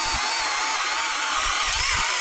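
Small mini chainsaw sawing continuously, a steady high-pitched buzzing whine at close range with slight fluctuations as it cuts.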